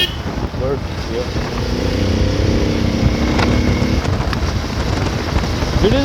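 A 200-class motorcycle engine hums steadily while riding to campus, with its pitch shifting under wind rush and a rider talking over it.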